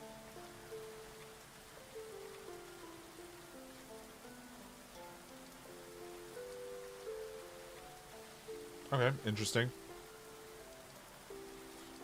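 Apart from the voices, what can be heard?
rain in the video game Going Medieval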